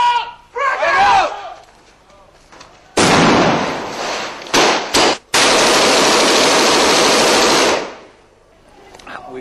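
Loud explosive blasts and sustained roaring bursts during urban combat in Fallujah after a grenade is thrown, with shouting voices beforehand, close and overwhelming.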